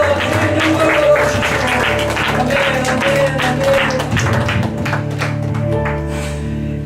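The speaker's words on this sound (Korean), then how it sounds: "우리에게 참 만족함과 기쁨을 주시는 그 하나님 아버지와 예수님께 박수하십시다." Church congregation clapping during a worship service, with sharp claps standing out over a sustained musical backdrop, steady and fairly loud for the whole stretch and with no speech.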